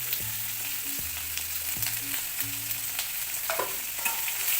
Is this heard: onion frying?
yes